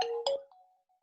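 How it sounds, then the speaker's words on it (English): A phone ringtone sounds during an office-style discussion, two short bright chimed tones followed by a fading sustained note, moderately loud and alone. "Just let me pick this phone."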